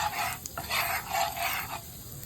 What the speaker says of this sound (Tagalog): Lulutuin ko ng kaunti sa butter